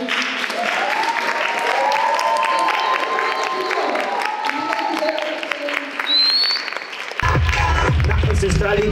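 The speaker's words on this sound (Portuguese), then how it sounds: "eu só queria que todo mundo desse salva de palmas para essas mulheres" A crowd applauds and cheers for women graffiti artists at a community event, dense sustained clapping with whoops and voices mixed in, ending on a louder, rougher burst of noise.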